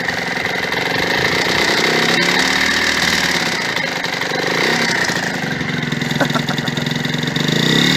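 A Yamaha DT motorcycle engine idles on choke on a cold day, a steady, fairly loud two-stroke burble running throughout with faint voices behind it.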